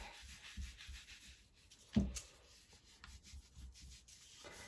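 Soft rubbing strokes of a cloth wiping wet paint off furniture, close and quiet, with one louder scuff partway through.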